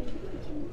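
Breeder pigeons cooing softly in cages, a single brief low coo close by in a quiet setting.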